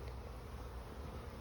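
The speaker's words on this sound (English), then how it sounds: "the bees are actually going in at the top of the hive" Honeybees hum around a beehive where they enter near the top; a steady, close, continuous buzz fills the moment with no voices.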